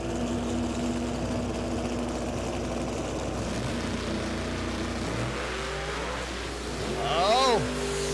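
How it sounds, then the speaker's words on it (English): A Mustang launches at a grudge drag race, a loud engine roar building and rising in pitch toward the end, with a commentator talking over it. "Mustang got a great jump out of the hole."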